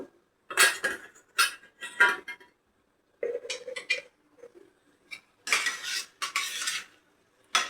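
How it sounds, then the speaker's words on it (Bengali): A spoon stirs boiled potato into spices frying in a pan for potol and chholar dal dhoka, giving irregular bursts of close metallic scraping and clatter separated by short pauses. "তো মশলাগুলো আমার এই ভাজা হচ্ছে"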